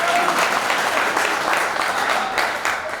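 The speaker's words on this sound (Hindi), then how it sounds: "मस्ती के मूड में एक बार जोरदार ताली बजाओ" Loud, steady applause from an audience at a Hindi comedy poetry show, a dense wash of many hands clapping continuously and close for the whole stretch.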